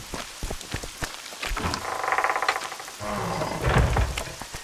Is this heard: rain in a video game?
yes